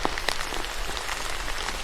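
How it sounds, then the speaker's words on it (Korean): Steady rain falls late at night at a remote, isolated house, a dense continuous patter that stays even throughout with no voices. "빗소리가 더 크게 들렸어요."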